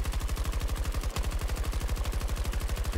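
Rapid automatic gunfire in Battlefield 2042 from a weapon fitted with a rattlesnake grip: one loud continuous burst of evenly spaced shots with a brief hitch near the middle, no voices.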